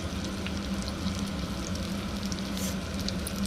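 Spices are stirred into jackfruit pulao in a pan, giving a continuous close frying sizzle with faint stirring, no voices.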